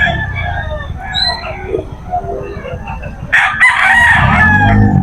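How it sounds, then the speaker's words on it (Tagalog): A young bullstag rooster crows at a busy pet market in Bocaue, its call rising loud and close over a murmur of crowd noise and background chatter. "Ito Bullstag."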